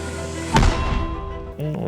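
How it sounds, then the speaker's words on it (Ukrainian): A single heavy artillery cannon blast booms out near a front-line dugout in Ukraine and rolls away in a long rumbling decay over a steady mechanical hum. "Гармата!"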